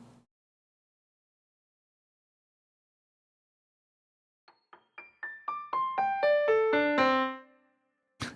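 One side of a melody widened with short Haas-effect delays: sparse plucked tones quickly accelerate into a rising cascade of bright notes that swell and cut off, quiet and heard alone after a long silence.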